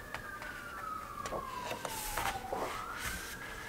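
Emergency vehicle sirens wail at a distance, a descending tone that swoops back up, with faint clicks nearby.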